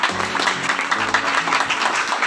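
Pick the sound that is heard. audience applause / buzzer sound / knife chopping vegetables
audience applause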